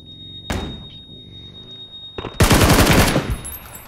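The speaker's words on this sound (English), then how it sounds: "Shoot them, Alex." Gunfire in a video game shootout: a single sharp shot, then a loud sustained burst of rapid automatic fire near the end, with a thin steady electronic tone underneath and no talk.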